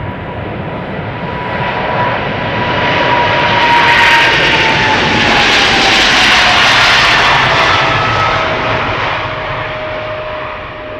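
A KLM Cargo Boeing 777-300 departs at Amsterdam Schiphol with a loud, sustained jet engine roar that swells to a peak midway and slowly fades, a falling whine running through it, with no voices.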